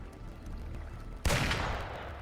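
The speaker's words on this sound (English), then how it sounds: "Gunfire! We've got intruders." A single sharp burst of gunfire cracks out, followed by a rushing, decaying blast over a quiet background.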